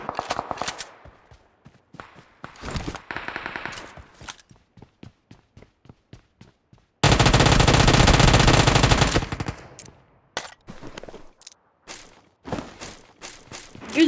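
A long automatic burst of gunfire fires in the PUBG Mobile battle royale game to finish a knocked-down enemy, coming after scattered footsteps and clicks and followed by more short thumps and shots.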